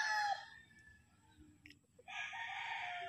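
A Boston Grey gamecock rooster crows loudly and close, a long harsh call that breaks off and then resumes with a second drawn-out crow, standing alone without talk.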